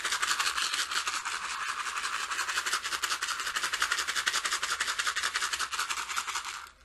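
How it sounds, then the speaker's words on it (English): A handcrafted medicine rattle shaken continuously in a fast, even rhythm, giving a dense, bright, close-up hiss of rattling for several seconds before stopping abruptly. "Yeah, medicine rattle. And you could just rattle around you."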